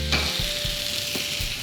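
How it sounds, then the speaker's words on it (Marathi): Desi Indian stir fry with garam masala and salt tossed in a hot pan, giving a steady close sizzle with soft stirring scrapes and light clatter, no talk. "गरम मसाल्यानंतर याच्यात घालूया मीठ आणि आता याला एकदा परत टॉस करूया।"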